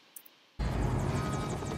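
A helicopter lands in a Minecraft scene, its engine and rotor sound cutting in suddenly as a loud, steady drone with faint rhythmic beating above it, after a brief quiet start.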